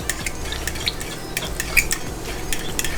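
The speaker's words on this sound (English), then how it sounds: "this is a tablespoon of brown sugar. I've already melted some butter here. So I'm going to stir this." A spoon stirs brown sugar into melted butter, giving a close, continuous clinking and scraping against the dish with a soft wet undertone.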